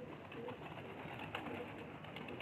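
Pigeons softly cooing nearby, a faint low murmur of repeated coos over quiet background hiss.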